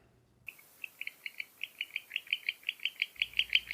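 An owl gives a run of short, high screeching calls that come faster and louder, heard alone against a quiet background.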